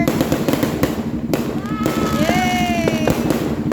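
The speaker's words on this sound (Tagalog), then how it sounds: "Gaganda ng fireworks dito sa Dolores San Fernando." New Year fireworks and firecrackers bursting over Dolores, San Fernando, rapid loud cracks and pops in dense succession with whistling rockets rising, while people cheer and talk nearby.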